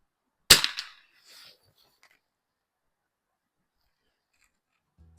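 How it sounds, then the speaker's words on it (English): A single sharp, loud crack from an Anschutz Match 54 .22 rimfire target rifle firing Eley Cub ammunition at a 50-yard iron-sights range. The report decays quickly, followed by a faint rustle and then near silence. "I'm going to shoot a couple of shots."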